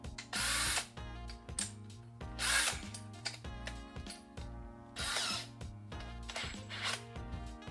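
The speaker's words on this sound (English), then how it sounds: "Now we're going to drill down into those about 2 inches." A power drill with a 7/16 bit bores about 2 inches into wood, whirring in several loud bursts, with higher-pitched grinding as the bit bites, separated by quieter motor hum and clicks.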